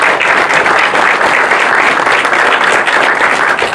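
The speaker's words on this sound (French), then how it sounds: "qui va vous demander d'applaudir très fort." Audience applause fills a film premiere screening in Paris, a dense, loud, steady wash of many hands clapping that holds without a break from start to finish.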